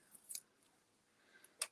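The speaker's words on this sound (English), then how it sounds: "I think it's these scissors because they're not really meant for cutting paper" Scissors not really made for paper snip through a sheet during diamond painting kit prep, two short crisp cuts, close and quiet, separated by a second of near silence.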